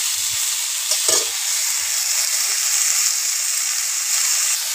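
Chicken curry with vegetables stirred in a pan, a steady loud sizzle and hiss running throughout with a brief scrape of the spoon near the start, no voices.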